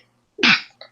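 One short sudden sneeze from a person, close and loud, a sharp burst that dies away within half a second and is followed by a small breathy catch, with no words spoken.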